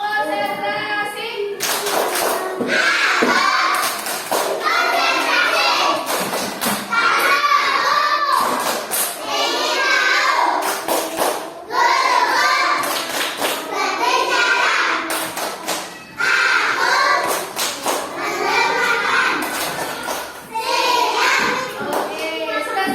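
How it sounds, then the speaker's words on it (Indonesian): A classroom of Indonesian children claps out the rhythmic 'tepuk konsentrasi' routine, loud sharp clap bursts in a patterned sequence alternating with the kids chanting together, repeated steadily throughout. "Tepuk konsentrasi."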